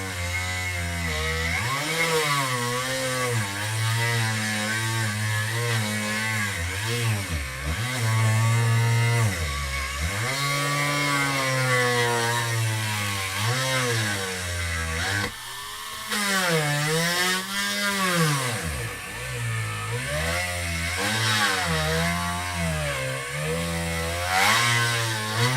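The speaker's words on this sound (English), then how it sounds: "I'm drilling in pretty far because we've got a ton of real estate to work with on this guy." A rotary tool fitted with a burr drills into a piece, its high motor whine continuous and close, rising and falling in pitch as the load changes, with no talking.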